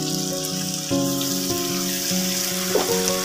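Curry leaves, mustard seeds, black cumin and panch phoron crackle and sizzle in hot oil for tempering, a steady bright frying hiss under sustained tonal background music.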